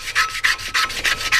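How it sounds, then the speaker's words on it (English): A sanding stick rubs back and forth on a bicycle wheel being prepared for paintwork, giving close, loud, raspy strokes in a steady rhythm of about five passes with no talk. "there's another use for our sanding sticks"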